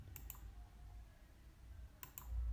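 A computer mouse is clicked in two quick double clicks, one near the start and one near the end, sharp and close against a quiet room hum.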